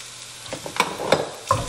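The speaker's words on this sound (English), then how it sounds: "I'm gonna stir that in and brown those tomato powder flakes." Freeze-dried tomato powder flakes stirred and browning in a hot pan: a spoon scrapes several times over a steady low sizzle, close and clear, with no talk.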